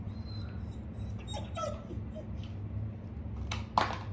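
A pet dog whimpering and yipping indoors, soft high whines scattered over a low background hum, ending in a couple of sharper vocal bursts.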